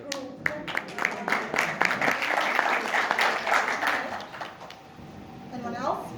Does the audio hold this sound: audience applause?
yes